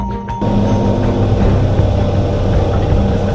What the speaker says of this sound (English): There's a plane coming in right now.